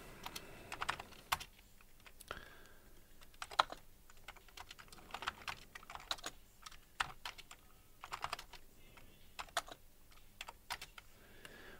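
Steady typing on a computer keyboard, irregular clicks and bursts of keystrokes, close and fairly quiet, with no voices.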